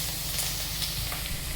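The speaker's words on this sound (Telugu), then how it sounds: "కొంచెమే ఆయిల్ వేసుకుని ఫస్ట్ క్యాప్సికమ్ మగ్గడానికి దాంట్లో మూకుడులో వేసాను" Capsicum frying in a little oil in a kadai, a steady close sizzle with soft crackles and light stirring, no voices.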